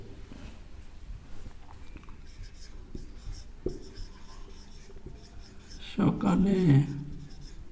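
A marker or chalk moves across a board in short, faint scratching strokes with small taps between them. A person speaks near the end.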